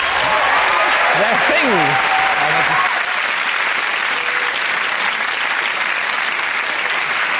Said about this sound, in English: please join me in a round of applause for our people and their things